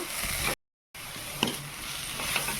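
Meal maker being mixed with chili powder, turmeric and pink salt in a pan, giving a soft sizzle and light scraping strokes close by, broken by a brief gap of silence.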